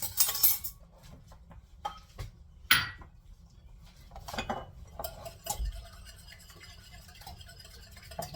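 Eggs with pepper being whisked in a bowl, a quiet, irregular clinking and scraping of a utensil against the dish with scattered sharper taps.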